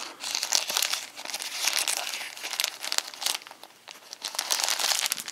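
A lead removal cloth packet is cut open and the cloth pulled out, producing continuous close crinkling and crumpling of packaging with brief tearing rustles that rise and fall.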